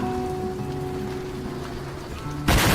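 Steady rain falling, a dense continuous hiss with a faint low hum underneath and a sudden louder burst of noise at the end, no voices present.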